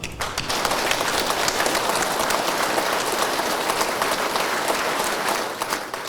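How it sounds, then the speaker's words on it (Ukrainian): A crowd of mourners gives sustained applause at a funeral farewell outside a city palace of culture, dense steady clapping that carries on for several seconds and tapers slightly near the end. "останні аплодисменти, як це не скорботно, але така є традиція, я аплодую"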